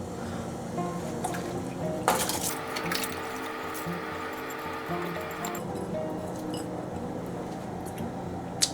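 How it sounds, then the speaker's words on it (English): Soaked rice poured into a pot of boiling water for Hyderabadi dum biryani, a splashy rush of grains hitting water over a continuous bubbling boil, with a few clinks near the start. "Water is boiling. I'm adding just rice."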